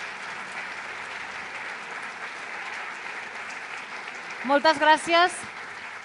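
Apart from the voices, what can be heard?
applause for a singer at a sports awards gala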